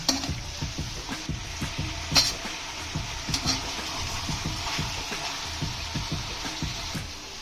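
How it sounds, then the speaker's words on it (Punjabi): Vegetables and paneer frying with a pinch of salt in a kadai, a steady close sizzle broken by rhythmic scraping and clinking of a ladle stirring against the metal, with no voices. "ਇਹਨਾਂ ਨੂੰ ਦੂਜੇ ਕੜਾਈ ਦੇ ਵਿੱਚ ਇਹਨੂੰ ਕਰ ਦੇਣਾ ਫਰਾਈ ਥੋੜਾ ਜਿਹਾ ਨਮਕ ਪਾ ਕੇ"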